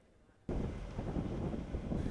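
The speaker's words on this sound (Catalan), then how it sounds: "Avui el vent bufa amb força" Strong wind gusts roar across the microphone outdoors in Barcelona, starting abruptly and holding as a loud, steady rumble with buffeting surges.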